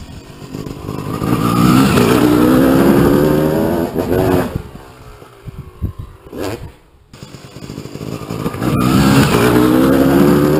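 A motorcycle revs and roars close by, rising and falling in pitch as it runs at a homemade freestyle ramp, then goes briefly quieter before building again.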